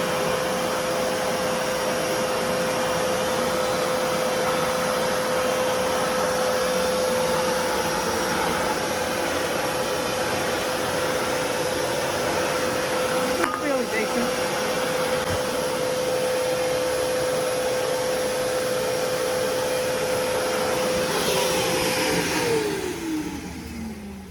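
A Karcher WD 3 wet and dry vacuum cleaner runs steadily at close range with a constant motor whine and airflow roar, then winds down near the end as it is switched off.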